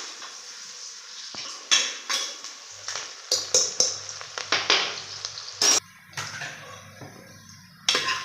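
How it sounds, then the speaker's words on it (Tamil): Onions sautéing in a pan for coconut fish gravy, a light sizzle beneath repeated clinks and scrapes of a spatula against the metal pan, irregular and close. "இது நல்லா வதங்கட்டும்."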